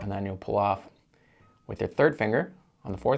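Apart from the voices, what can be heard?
None of the usual background noises is heard.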